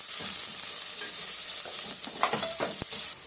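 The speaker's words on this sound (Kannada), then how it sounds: "ಈರುಳ್ಳಿ ಚೆನ್ನಾಗಿ ಫ್ರೈ ಆಗಿದೆ" Chopped large onions sizzle steadily in a pan for radish lentil sambar, a constant close frying hiss with occasional scrapes and stirring knocks of a spoon.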